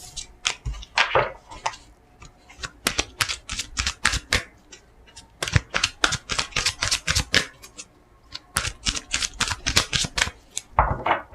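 Tarot cards being shuffled and drawn: a long run of close, rapid flicking and riffling card snaps in quick bursts with brief pauses, crisp and fairly loud, without talk.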